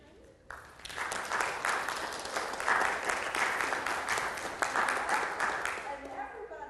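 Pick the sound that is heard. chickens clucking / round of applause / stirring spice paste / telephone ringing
round of applause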